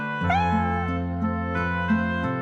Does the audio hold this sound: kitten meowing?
yes